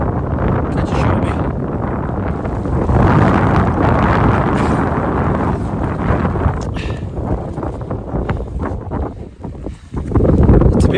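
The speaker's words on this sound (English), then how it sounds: "bit more windy than I thought," Strong wind roars steadily across a mountainside in the Ogwen Valley in Wales, a loud continuous rush with gusts buffeting the microphone, heard alone throughout.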